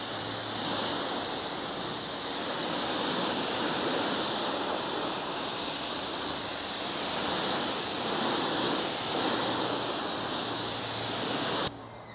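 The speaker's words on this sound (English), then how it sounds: "So we're just gonna go ahead and rinse it off real quick and then we can start on the wheel." Water spray rinses foam off a car tire during wheel cleaning, a continuous, loud, broad hiss that runs steadily for about twelve seconds before cutting off abruptly at the end.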